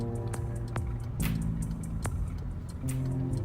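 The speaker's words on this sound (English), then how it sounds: "There's a lot of traffic this morning." Road traffic rolls past a driver waiting to make a turn at a busy morning intersection, a steady low rumble with a few brief swells as individual vehicles go by.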